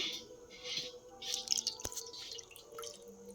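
Water drips and trickles softly while a small Gopal idol is bathed, faint close splashes with a light ringing tap, no voices.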